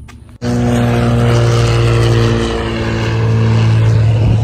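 Small propeller airplane at a skydiving center starts up with a sudden onset, then its engine drones steadily and loudly with a strong low hum and propeller buzz, nearby and without talk.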